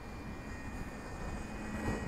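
A simulated RC plane flies in windy conditions in the FMS flight simulator, giving a faint, steady engine drone with a thin constant whine and no breaks.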